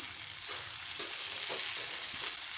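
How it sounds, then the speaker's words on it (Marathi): Poha (flattened rice) is being stir-fried in a hot pan, giving a steady close sizzle broken by soft scraping strokes of the stirring spoon. "आता त्यामध्ये पोहे घालून घेते पोहे व्यवस्थित आता परतून घेते"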